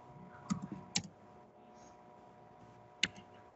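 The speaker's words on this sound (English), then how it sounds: "Oh, you're typing." Sparse keystrokes on a computer keyboard, a few separate clicks with long pauses between them, quiet and close against a faint background hum.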